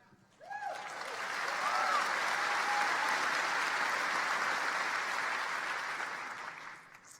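Sustained audience applause rises quickly and holds steady as a dense, loud wash of clapping for several seconds before tapering off, with a brief voice heard near the start.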